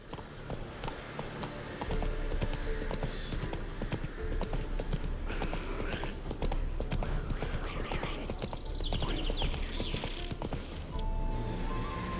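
Horse hooves clopping in a rapid, steady rhythm as a horse gallops in The Witcher 3: Wild Hunt, close and continuous over ambient background noise, with no talking.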